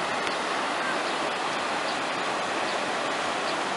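Clear spring water falling at a waterfall by the source of the Jordan River in the mountains at Ein Gedi, heard as a constant broadband rush of moderate loudness with no breaks and no talking.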